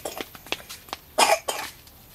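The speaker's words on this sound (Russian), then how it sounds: "Что за кашель?" A young boy coughs several times in short separate bursts, with one louder, harsher fit near the middle, close and with no talk over it.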